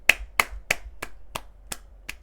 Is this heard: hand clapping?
yes